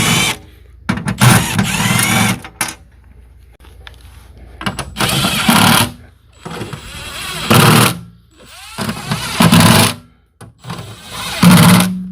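A cordless drill backs screws out of an Everlast welder casing in four separate whirring bursts, each a few seconds long at moderate speed, with quiet pauses between.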